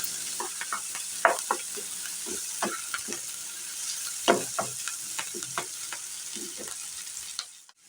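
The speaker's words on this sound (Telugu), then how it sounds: "ఉల్లిపాయ పచ్చిశనగపప్పు కొంచెం అటు ఇటు ఫ్రై చేసుకోవాలి" Onion, soaked chana dal and curry leaves sizzle in hot oil in a pan, a constant close crackle broken by repeated scraping stirs of a spoon, fading out at the end.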